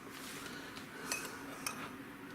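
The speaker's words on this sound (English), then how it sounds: "now simply we just sit there and mix everything all together" A spoon stirs a dry seasoning mix in a dish, a quiet, close scraping with two small metallic clinks and no voices.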